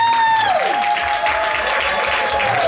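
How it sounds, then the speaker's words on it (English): A church congregation applauds its young people with a loud, continuous burst of clapping, and a sustained tone sliding downward near the start before fading under the crowd noise. "Please, please, please give our young people a great big round of applause"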